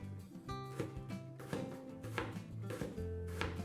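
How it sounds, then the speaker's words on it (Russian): Knife cutting halved zucchini into thin slices on a board, a steady run of close, crisp chops and taps repeating about every half second, alone with no talk. "Дальше кабачки разрезаем пополам и нарезаем на тонкие дольки."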